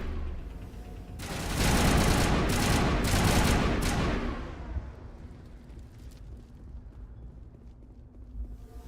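Gunfire in a video game: a loud, dense burst of rapid shots lasting a few seconds, then fading into a quieter rumbling tail.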